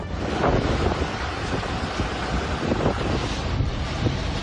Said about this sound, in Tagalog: Malalakas na hampas ng alon ang bumungad din sa mga taga-Dimasalang.